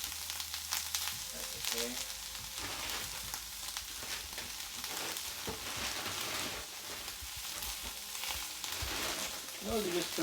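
Vegetables fry in a pan for fried rice with a loud, steady sizzle that lasts throughout. There is stirring now and then, and a voice speaks briefly.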